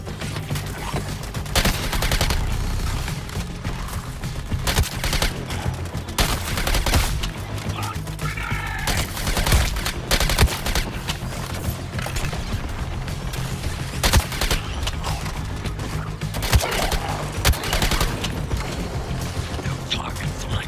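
Constant gunfire in the PS5 game Suicide Squad: Kill The Justice League, rapid automatic shots with clanking mechanical weapon sounds layered over a droning background, steady and loud throughout, with brief game voice lines.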